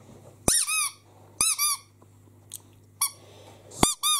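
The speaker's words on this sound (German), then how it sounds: "So Quietsche-Sachen, wo der auch nicht mitspielt." Squeaky plush pet toys squeezed in five separate bursts, each a bright, piercing double or triple squeak, loud and close, with a faint click between them and no talking.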